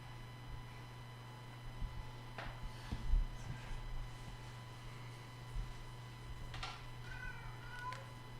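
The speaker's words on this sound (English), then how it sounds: "Oh, the cat just ran in." A house cat meows several times and scampers around an indoor room, with faint thumps and scurrying over a steady electrical hum; the meows are short and scattered across the span, moderately close but not loud.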